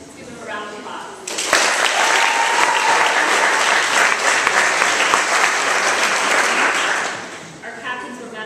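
Loud, sustained applause and cheering from a school audience at a student recognition day greets the varsity lacrosse team, swelling suddenly after brief speech, holding steady, then dropping away as talking resumes.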